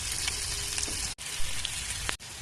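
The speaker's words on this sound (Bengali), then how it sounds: "আলুগুলো ভাজা ভাজা হয়েই গেছে" Potatoes fry in hot oil in a pan, a steady dense sizzle that fills the whole clip, loud and close, broken by two brief dips where stirring or movement interrupts it.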